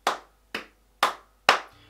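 Four sharp hand claps spaced evenly about half a second apart, close and crisp, keeping a steady beat for a guitar strumming pattern.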